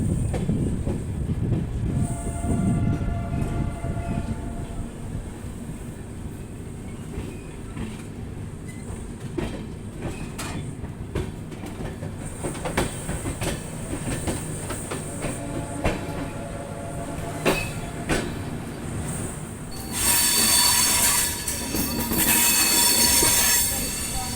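Rajdhani Express train heading along the Delhi line toward Ambala, rolling steadily on its tracks with a continuous rumble, repeated wheel squeal and clatter, growing louder and brighter in the final seconds.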